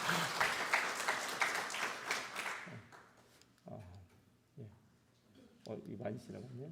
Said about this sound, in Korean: 저쪽에다 박수를 쳐주세요